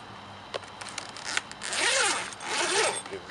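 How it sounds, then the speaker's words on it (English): A hammock bug net's zipper is pulled in two quick, rasping strokes at close range, preceded by a few soft clicks and rustles. "Give the zipper a pull."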